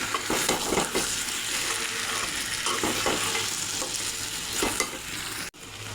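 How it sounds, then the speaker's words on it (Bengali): Potatoes fried earlier go into a pan of cooking chicken biryani, giving a steady close sizzle and frying hiss with stirring scrapes and a brief clunk near the end. "এখন ভেজে রাখা আলু দিয়ে দেব।"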